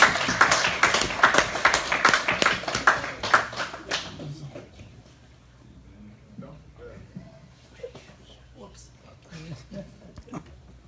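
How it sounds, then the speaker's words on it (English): Applause from an audience at an award presentation, loud and dense clapping for the first four seconds that then fades to sparse scattered claps and murmuring. "Please, a round of applause."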